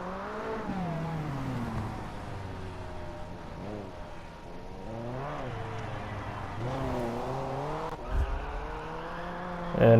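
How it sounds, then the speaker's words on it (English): A Lancia 037 rally car in WRC 8 on tarmac revs and accelerates with its tires slipping, the engine note rising and dipping through repeated surges, with a sharp knock near the end. "it'll seem like it bogs down, but the tires are actually slipping while accelerating"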